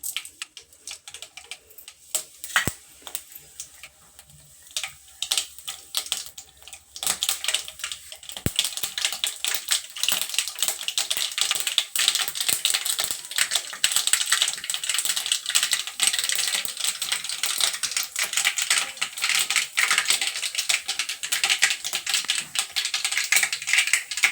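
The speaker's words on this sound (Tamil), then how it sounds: "எண்ணெய் சூடாகிடுச்சு இப்போ கடுகு போட போகிறோம்" Dense, rapid crackling and popping of mustard seeds spluttering in hot oil, starting sparse then building into a steady sizzling patter, close by.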